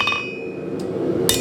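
Steel being hammered while forging a center punch: sharp metallic ringing strikes, three close blows within about a second and a half, loud and crisp against a workshop background hum.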